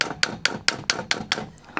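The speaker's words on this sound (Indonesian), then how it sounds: "Lalu kita dorong atau kita palu secara perlahan" A hammer taps gently on a part of an old traditional sewing machine, about eight evenly spaced, crisp metallic knocks close up, slowing slightly toward the end, with no talking.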